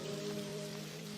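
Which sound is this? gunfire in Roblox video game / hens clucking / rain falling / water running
rain falling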